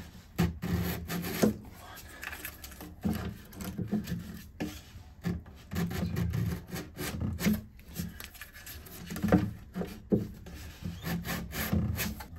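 Wood on the neck of a 1969 Martin D-28 guitar being restored is sanded by hand, producing close, rhythmic rasping strokes in short bursts with brief pauses between them.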